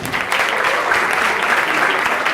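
An audience at a hypnosis lecture and coaching training claps together, a dense, steady burst of applause lasting a couple of seconds.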